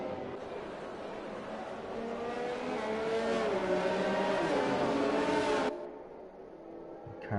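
Race cars in a Singapore Grand Prix racing video game drone and whine with rising engine pitch, blending into a loud sustained roar before cutting off abruptly, under commentary talk.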